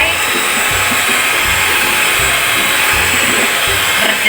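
Electric mixer beating batter until stiff, a loud continuous motor whir close by with a faint pulsing low-end wobble as the beaters churn the mixture.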